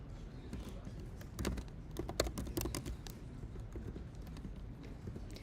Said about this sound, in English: my hands are really cold, which means my typing is pretty awful right now